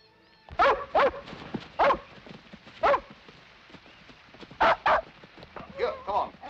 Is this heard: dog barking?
yes